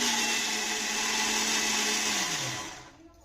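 A blender whirs loudly and steadily, grinding dosa batter after sour buttermilk is added, its motor pitch dropping as it winds down and stops near the end.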